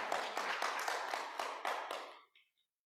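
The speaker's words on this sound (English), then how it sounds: "So let's applaud ourselves for what we have done." A congregation applauds together, giving a dense wash of clapping hands that holds steady for about two seconds before quickly dying away into silence.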